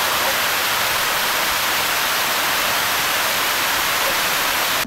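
A waterfall at a manor hotel in the Cotswolds pours with a steady, dense roar, loud and close, continuous throughout with no voices.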